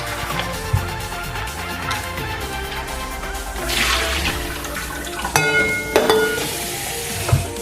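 Almonds are washed in a bowl of water, with swishing, sloshing water and rubbing sounds, a few sharper splashes and light knocks against the container.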